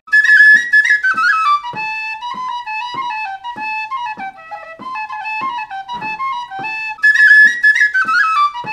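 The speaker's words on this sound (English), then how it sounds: "Penny whistle." A penny whistle plays a lively, bright tune in quick articulated notes, with a rhythmic pattern of short tongued tones. It rises to a louder, higher phrase near the end, heard alone and clearly.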